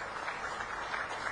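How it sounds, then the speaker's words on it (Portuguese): An audience applauds steadily and evenly during a recorded political speech excerpt, a brief wash of many hands clapping at moderate volume. "Aplausos."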